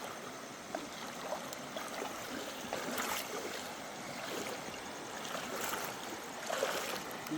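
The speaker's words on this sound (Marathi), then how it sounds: "तर आम्ही पाणी क्रॉस करतो आहे आणि तिकडे आता पोचतो आहे आम्ही." People wading across a river at night near a riverside campsite, water swishing and splashing steadily with louder surges of churned water, no talking.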